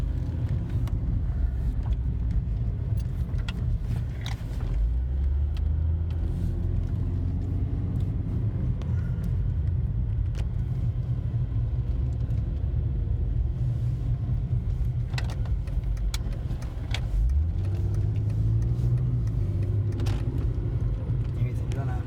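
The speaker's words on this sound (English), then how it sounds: "I'm gonna let you just listen to the car, see how it's smooth" Steady, smooth engine hum and low road rumble from inside a moving car, with a continuous drone and occasional faint bumps.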